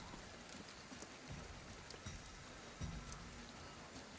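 Steady hiss of rain falling on a surface in Ghostwire: Tokyo, with soft scattered drops throughout and a brief low thud near the end.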